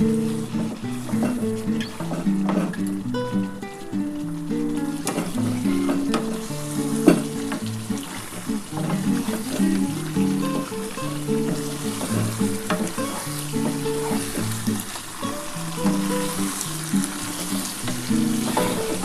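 Fish curry masala for spicy aar fish sizzles and fries steadily in a pan, stirred throughout with a scraping rhythm, close and continuous with no talking.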